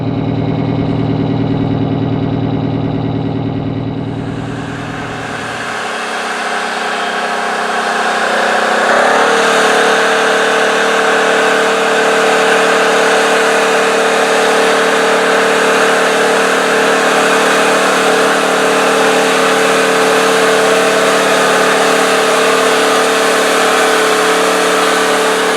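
A John Deere 5020 tractor repowered with a Detroit Diesel 8V71T runs steadily while pulling a six-bottom plow in a field, a loud, sustained engine roar that shifts in tone and builds after the first few seconds, then holds constant.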